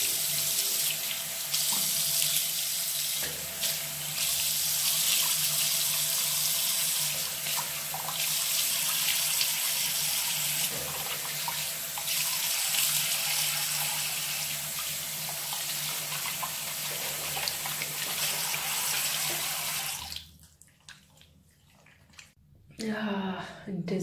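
Cold tap water runs steadily into a sink as a face is splashed and washed, a loud continuous rushing stream lasting about twenty seconds before stopping abruptly, with brief faint handling sounds afterward.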